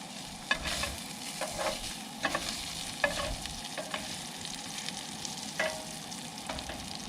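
SPAM slices fry in a pan, cooked outdoors from a truck while camping, with a continuous sizzle broken by scattered sharp pops and spatters, close and without voices.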